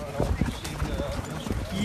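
Trotting horses' hooves at the Vincennes racecourse clip-clop in a quick irregular rhythm at moderate distance, under French voices talking over them.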